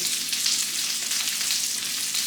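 Spare ribs seasoned with tropical seasoning browning in a hot pan for Portuguese feijoada, giving a steady, loud, continuous sizzle and fry with no talk.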